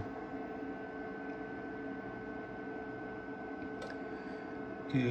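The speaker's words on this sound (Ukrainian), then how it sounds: "чути, як працює вентилятор" The cooling fan of a Maxxter 1000VA MX-HI-PSW UPS runs with a steady, even hum and faint whine, then a couple of small clicks and a bump near the end.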